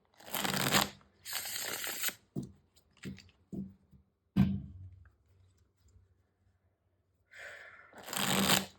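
Tarot cards shuffled in several crisp riffling bursts with pauses between, followed by a few soft slaps and taps as cards are laid out, close and fairly loud with no talking.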